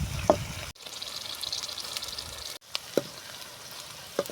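Mustard seeds, onions and green chillies fry in hot oil, giving a close, steady crackling sizzle broken by a few sharp stirring clicks and two brief dropouts.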